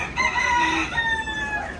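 Chickens and chicks cluck and crow in a short, close burst at a livestock and bird auction in California, a rooster-like call rising over a steady farmyard background.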